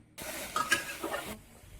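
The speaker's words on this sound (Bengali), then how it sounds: "উঠাই নিয়ে আলু ভেজে নেবো। এখানে দুটো আলু দিছি।" Two potatoes frying in a pan while mutton dum biryani is cooked village style, giving a bright, broadband sizzle with stirring scrapes that is steady for about a second, then drops away into quieter hiss.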